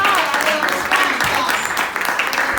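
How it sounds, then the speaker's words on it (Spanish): Loud applause fills a church congregation, a dense, steady wash of clapping that holds throughout without a break. "Den un aplauso fuerte al Señor."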